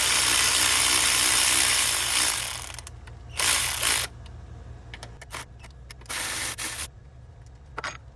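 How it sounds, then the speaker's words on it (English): Coil pack bolts being removed from a Ford 6.2 engine, a loud continuous rasping spin that cuts off, followed by several short bursts of ratcheting and tool noise with pauses between. "I'm gonna go ahead and just get rid of these bolts for the coil pack."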